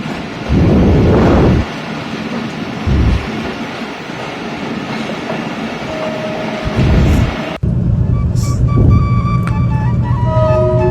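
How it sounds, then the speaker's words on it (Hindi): Pakistan Railways' Bolan Mail passenger train rumbles out of Quetta station, loud and close, with surging low-frequency clatter and bursts of heavier rumble as it gradually gathers speed. "और बलान मेल आहिस्ता आहिस्ता अपनी रफ्तार को पकड़ रही है।"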